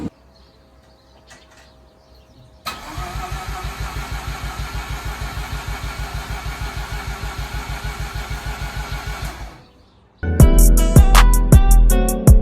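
A Mazda RX8 with a bridgeported Renesis turbo rotary engine fires up and runs loud and close with a fast, even pulsing idle for several seconds, cuts off, then bursts back with sharp revving pops.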